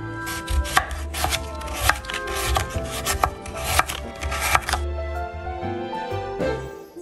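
A knife chops radish into thick slices on a board, a quick run of close, sharp knocks in an uneven rhythm that slows toward the end.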